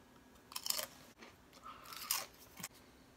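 Pringles Wavy potato chips crunched between the teeth, two close bursts of crisp crackling bites a second or so apart, fairly quiet with no talking.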